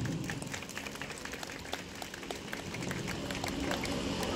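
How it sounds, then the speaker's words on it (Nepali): Applause at a factory event for the company manager, a soft, distant spread of many hands clapping that carries on steadily with a faint murmur beneath it. "प्लिज सर, उहाँको लागि जोरदार ताली।"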